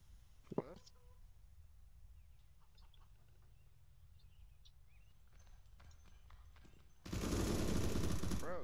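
Gunfire from a Counter-Strike match, a loud dense burst of shots erupting near the end after a quiet stretch of faint game ambience and a brief clack early on.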